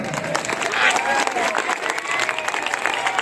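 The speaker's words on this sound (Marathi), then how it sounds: "महिलांनो माईच्या तुम्ही एकदा टाळ्या वाजवा" A crowd of women and young people at an anniversary gathering clapping together, dense sustained applause under a loud voice speaking over it throughout.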